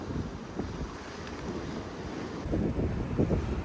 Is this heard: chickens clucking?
no